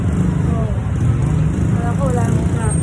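Street traffic on Yellow Street rumbles steadily, a low continuous drone of engines and passing vehicles, with a person talking over it.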